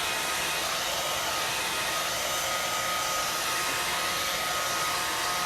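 A hair dryer on a warm setting blows steadily and loudly close by, drying ink on fabric with an unbroken whooshing roar and no other sounds.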